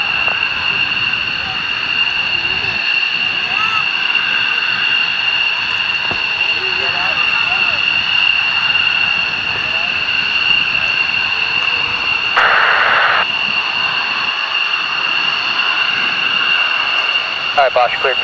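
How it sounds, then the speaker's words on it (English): A military jet takes off at the Barnes ANGB air show with a loud, steady, sustained engine roar and a high whine. Voices can be heard faintly under it. "All right, Bosch, cleared for takeoff."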